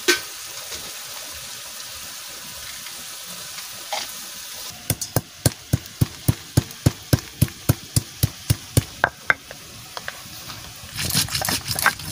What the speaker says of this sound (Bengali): গরম মশলা বেটে নেবো।